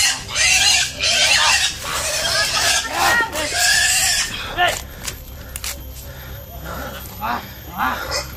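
Pigs squealing and grunting loudly at close range, in repeated bursts that overlap with excited shouting voices and fade toward the end.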